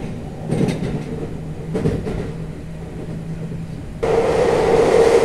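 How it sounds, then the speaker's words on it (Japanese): A Hapi-Line Fukui train rumbles along steadily with a low rolling roar, then the noise jumps louder and harsher as it enters the 13-kilometre Hokuriku Tunnel at speed. "そこを列車は高速で走り抜けます。"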